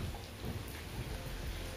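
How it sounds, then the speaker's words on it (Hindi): Heavy rain pouring down in Multan, Pakistan after a long dry spell. A steady, hissing downpour fills the air with a low rumble beneath it, fairly soft but continuous, with nobody talking. "इतनी तेज बारिश हो रही है ना"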